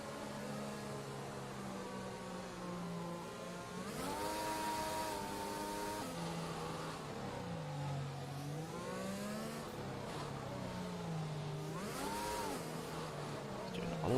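Formula 1 car engine in an F1 video game at the Brazil round, a quiet engine whine sweeping up and down with gear changes and throttle bursts, heard faintly throughout.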